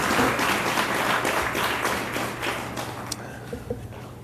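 Applause from an audience at an outdoor groundbreaking ceremony with the New York City mayor, steady dense clapping at moderate volume that thins toward the end, with a few scattered louder claps and a low constant hum underneath.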